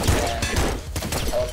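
Dense electronic burst of sound as a boss warps in during Nuclear Throne, a loud continuous crackle of game effects with heavy low rumble and scattered impact-like hits.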